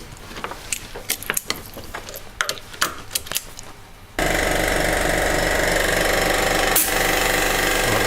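An oil pressure pump working while wood is impregnated with heated oil: irregular clicks and ratcheting knocks, then the pump kicks in with a sudden loud continuous mechanical buzz that holds steady.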